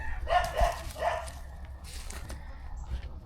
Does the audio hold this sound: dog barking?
yes